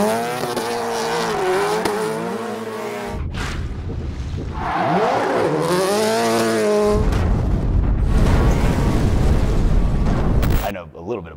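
Gymkhana 2 stunt car driving hard, with a loud engine revving, roaring and bouncing off the limiter in rising and falling sweeps, short bursts and a sharp drop near the end, under a layer of talk.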